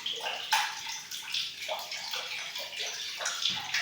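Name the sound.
water from a tap filling a container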